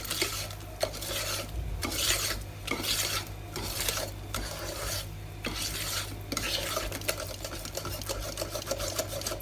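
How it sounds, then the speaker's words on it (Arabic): Dessert batter for luqmat al-qadi (awameh) being mixed by hand in a bowl: steady, rhythmic scraping and stirring strokes, close and even throughout, with no talking. "غنخلط الان غير بالخلاط اليدوي، غير هكذا باليد."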